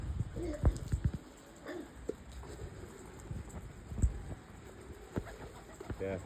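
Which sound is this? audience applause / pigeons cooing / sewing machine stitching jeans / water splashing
pigeons cooing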